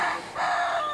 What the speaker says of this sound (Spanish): Los gallos cantan y se levantan.